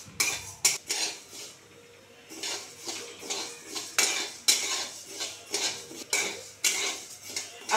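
Urad dal dry-roasted in a pan on a gas stove, a metal spoon scraping and clinking against the pan in repeated irregular strokes, close and fairly loud, with short pauses between stirs.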